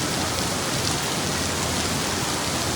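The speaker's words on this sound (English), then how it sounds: "It is raining hard." Heavy rain pours continuously onto a street in Mazamitla, a dense, even roar of water without pauses and with no voices.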